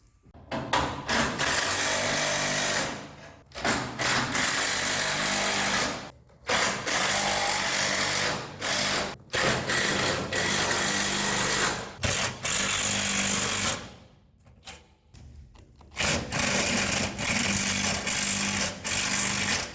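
An impact wrench pulls a dent out of a bowed tailgate in loud, sustained rattling bursts, with short pauses between them as the work moves from one spot to the next.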